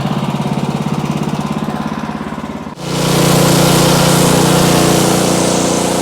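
A sawmill cuts into a very large log: a steady, loud mechanical whine and rumble, then a sharp break near the middle as the blade bites in and the roar becomes broader, denser and louder, continuing without pause.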